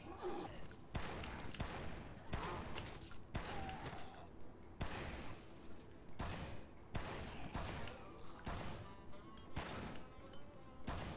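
Repeated gunfire bursts in Dead Rising as zombies are shot at night, a steady series of loud shots about every second with thuds and crashes mixed in, close and continuous.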